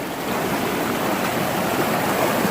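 Fast-running water rushes through a stream on the East Fork San Gabriel, a loud, dense and continuous wash of noise with no talking.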